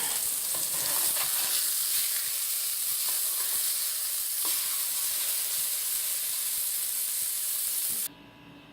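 Pork chop frying in a pan, a steady bright sizzle with crackling pops that runs loud and unbroken, then cuts off abruptly near the end.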